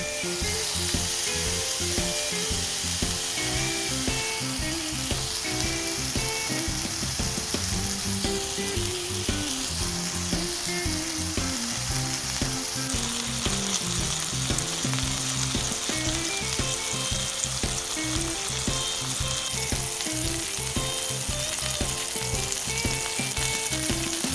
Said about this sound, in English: So these burgers are pretty much ready to flip.